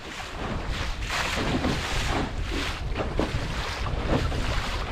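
Sailboat under sail heeling just after a tack, steady rushing wind and water hiss against the hull with gusting wind noise on the microphone, continuous and loud, no voices.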